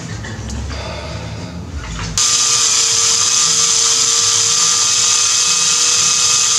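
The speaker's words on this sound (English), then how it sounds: "this drill bit may not be large enough, but it should be 6 mil" After a couple of seconds of rustling and clanking, a power drill starts up and whines steadily at high speed, drilling out a stripped Torx bolt on a Harley Sportster derby cover, close by and loud.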